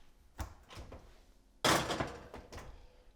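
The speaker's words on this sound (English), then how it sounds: "I'll put them back in the oven to keep them warm." An oven door opens with a soft knock and later shuts with a louder clunk and rattle, close and clear in a quiet kitchen, amid a few small handling taps.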